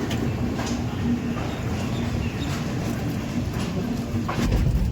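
A low, steady rumble of a Chennai to Howrah Mail train car, with faint creaks and clunks as it begins to roll, continuous and fairly close.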